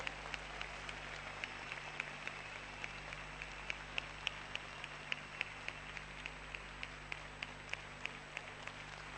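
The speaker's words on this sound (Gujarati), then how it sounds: "જોરદાર તાળીઓથી આ અનાવરણને વધાવીએ" A crowd applauds the unveiling of a golden spire on a temple at Vadtal, with scattered, fairly distant claps forming a steady patter.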